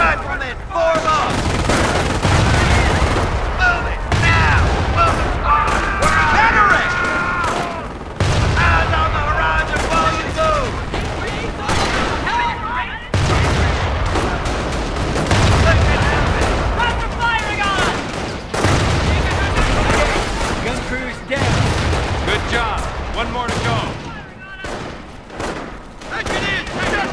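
Sustained automatic gunfire crackles through a Company of Heroes battle in bursts, with heavy booms and thuds mixed in, loud and close, while soldiers shout orders over the fighting.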